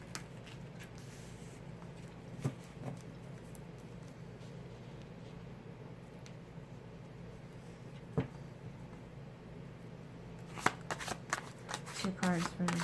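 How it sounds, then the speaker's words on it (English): Oracle cards from the Twin Flame Journey Oracle deck by Mystic Moon Oracles being shuffled by hand, a quiet continuous riffling with a few sharper card snaps, growing busier near the end, under faint room noise. "I'm going to pull some cards from the Twin Flame Journey Oracle from Mystic Moon Oracles."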